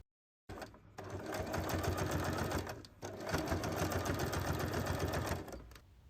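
A sewing machine topstitches a handbag strap with a fast, even mechanical whir in two continuous runs separated by a short pause, close and loud with no talk.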